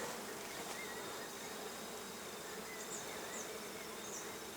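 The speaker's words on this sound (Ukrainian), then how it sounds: "Ви подивіться, все гудить." A dense, continuous buzz of many honeybees around hives fills the air, steady and close, with a few individual insects droning past.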